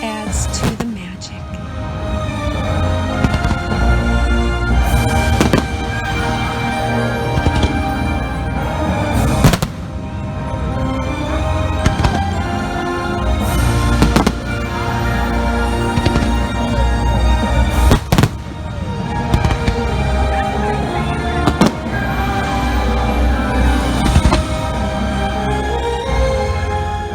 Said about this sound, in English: Fireworks are awesome.